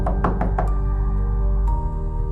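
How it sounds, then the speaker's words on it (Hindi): Knocking on a door in a Hindi horror film scene: four quick, solid knocks in a row, then a single later thud, all over a steady low background hum. "दरवाजा फिर खटखटाया।"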